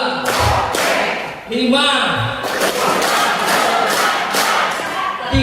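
A workshop group claps in rhythm on cue, sharp loud bursts of synchronized claps in short sets, with a voice calling counts over them.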